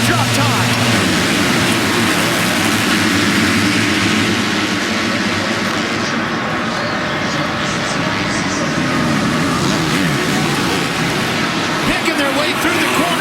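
Supercross motorcycles in the 250 East main event at Indianapolis rev at the starting gate and launch, a dense, loud, continuous engine roar from many bikes in a stadium, with commentators talking over it.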